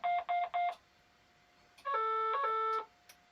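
Class 68 diesel locomotive cab in Train Simulator during start-up, three short electronic tone bursts followed by a longer two-tone warning alarm, then a brief click, loud and close in a quiet cab.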